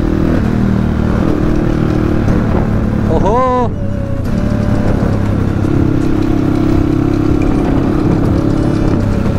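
A motorcycle, the rider's own bike out for the first time in four or five months, drones steadily and loudly on the road near Chunikhel, with a brief rising whine midway and a voice talking over it.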